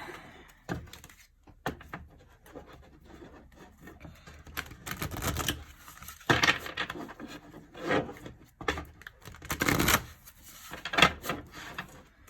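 Tarot cards are shuffled and drawn during a reading, heard as soft, close papery rubs and brisk riffling bursts that come and go in irregular clusters over quiet pauses.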